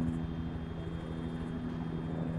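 A helicopter in a military simulation game gives a steady droning engine and rotor hum, constant and moderately loud throughout with no speech.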